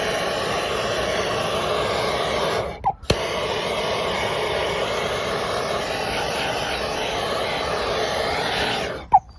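A blowtorch roars steadily and loudly while heating the plastic centre part of a wheel, with the continuous hiss cutting out briefly once near the start and again at the very end.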